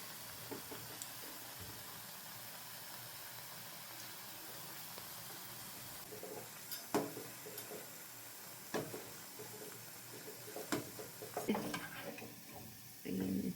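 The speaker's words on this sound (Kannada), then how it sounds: "ನುಗ್ಗೆ ಸೊಪ್ಪು ಹಾಕ್ತೇವೆ ಮತ್ತು ಕಡಿಮೆ ಎಣ್ಣೆಯಲ್ಲಿ ಫ್ರೈ ಮಾಡಬೇಕು" Drumstick leaf and onion pakoda fry in a little oil with a faint, steady sizzle, broken by occasional utensil clinks and stirring scrapes that grow busier toward the end.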